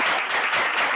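A single speaker claps alone at a virtual leadership conference fireside chat, a brief, dense burst of close hand claps filling the whole moment.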